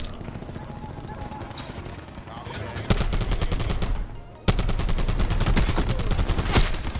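Rapid automatic gunfire in Call of Duty Black Ops 4, dense bursts of shots at close range with brief pauses between volleys, loud and continuous.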